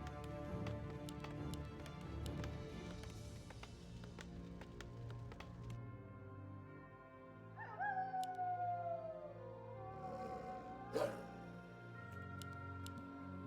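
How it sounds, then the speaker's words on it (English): A dog howls in the Warcraft III video game, a drawn-out wavering cry rising and falling over busy game music and effects, followed by a sharp burst. "Woof woof, says the dog."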